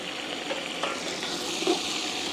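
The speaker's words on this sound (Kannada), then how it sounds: "ಸಾಫ್ಟ್ ಆಗಿರೋ ಮಟನ್ ಹಾಕ್ತಾ ಇದ್ದೀವಿ." Soft mutton pieces sizzling and frying in a pan while being stirred, a steady close hiss with occasional scraping knocks of the spoon, and no talking.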